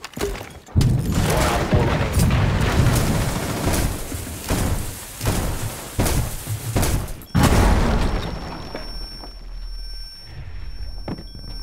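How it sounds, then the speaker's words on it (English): A Rainbow Six Siege cluster charge goes off as a rapid string of loud, close blasts and booms lasting several seconds, followed by a final heavy bang and a fading ringing tail. "Cluster charge going up."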